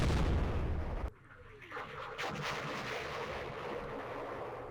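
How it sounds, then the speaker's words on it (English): In the Vietnam war game Campaign Series Vietnam, American artillery opens with a loud, booming blast that cuts off sharply, followed by a lower rumbling echo and windy, distant battlefield noise. "That's an American artillery."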